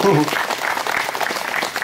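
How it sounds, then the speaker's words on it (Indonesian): An audience at a youth meditation gathering bursts into brief, dense applause right after a speaker's voice, the clapping continuing steadily throughout. "Tepuk tangan dulu"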